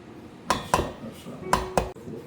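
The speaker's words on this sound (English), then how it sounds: "Now we're gonna whisk it until it's smooth, looks like this." A whisk beats coffee-flavored banana bread batter in a bowl, striking the rim in sharp metallic clinks. Two pairs of clinks come close up over soft stirring.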